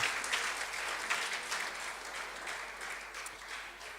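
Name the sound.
awards dinner audience applauding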